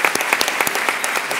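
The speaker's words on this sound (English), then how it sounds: "one more round of applause since we're here" Audience applause at a Latino Education & Advocacy Day opening session, a short burst of dense, steady clapping from a crowd filling the room.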